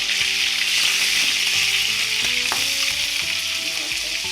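Curry leaves, green chillies and onions frying in hot oil for bottle gourd fry, a loud, continuous close-up sizzle with occasional stirring clinks throughout.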